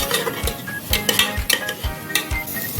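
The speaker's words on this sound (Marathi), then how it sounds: "परतूया वाटण चांगलं भाजलं गेलं पाहिजे" A ladle stirs ground masala paste roasting in a pan, with rapid rhythmic scraping and clinks against the metal over a faint sizzle, close and steady.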